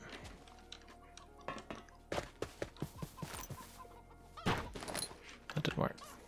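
Chickens cluck in the video game Minecraft, played with the GreedyCraft modpack: short clucks and thuds come in quick bursts, mixed with other game noises and a nearby voice talking.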